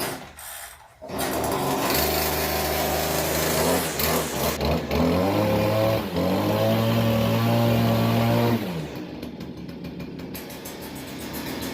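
A Stihl FS 40C grass trimmer's small two-stroke engine, started at half choke with a recoil pull, catches and runs loudly and steadily for several seconds nearby, with the pitch shifting, then drops off as it is shut down.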